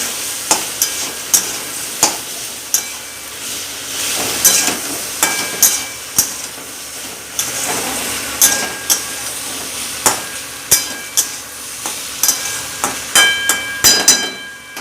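A spoon scrapes and knocks over and over in a frying pan as turmeric and chili powder are mixed in for a fish, radish and potato dish. The clatter comes in a quick, uneven rhythm over a constant sizzle, with no voices.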